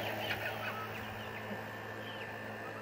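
A small flock of Polish, Cochin and Silkie chicks peep and cheep softly at close range, scattered high calls over a steady background hum, with no talking.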